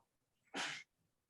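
A single sharp sneeze, brief and fairly close, in an otherwise quiet room.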